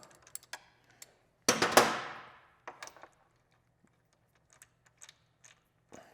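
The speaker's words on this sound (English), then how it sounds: "Go ahead and break this motor mount bolt loose." A 3/8 ratchet with a 17 mm deep-well socket and extension breaking loose a motor mount bolt on a Yamaha R7 sportbike: a few light clicks, one loud sharp crack as the bolt gives, then scattered ratchet ticks, close and alone.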